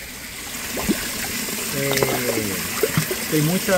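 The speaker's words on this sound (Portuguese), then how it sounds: "Respinga muita água na tampa. Respinga muita água aqui fora." Water pouring from a pipe into a fish tank made from a water box in an aquaponics setup, splashing steadily and close, with someone speaking briefly over the continuous gush.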